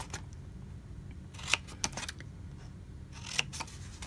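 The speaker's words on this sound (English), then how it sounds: "I'm gonna take my scissors and cut up to the score line" Scissors cut into a cardboard pizza box as far as the score line, giving a few crisp snips in two short bursts over a low background hiss, close by and with no talking.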